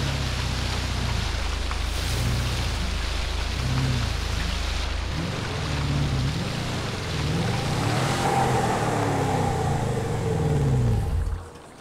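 A car pushes through deep water at an Indian water crossing, with loud continuous splashing and rushing water throughout and a low engine drone underneath, ending abruptly.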